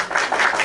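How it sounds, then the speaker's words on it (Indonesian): Short burst of applause from a church congregation, steady and fairly loud for under a second with no clear talk over it. "Tepuk tangan untuk Tuhan."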